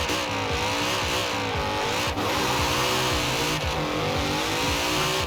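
A Mercedes-AMG GT in Forza Horizon 4 launches down a wet winter drag strip, its engine roaring loud and steady as it revs up through the gears, with brief shift dips and some tire noise.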